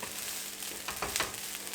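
Egg fried rice is stirred in a pan over a high flame, giving a short burst of sizzling with quick scraping strokes, close and moderately quiet.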